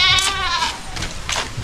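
Goats on a farm give loud, close bleats, a long wavering call at the start followed by shorter cries, with faint background noise between them.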